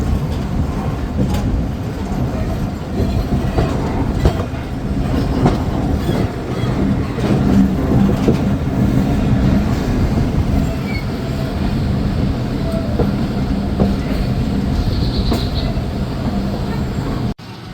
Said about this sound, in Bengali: ট্রেনটি প্রবেশ করছে তার তৃতীয় স্টপেজ চব্বিশ নগর স্টেশনে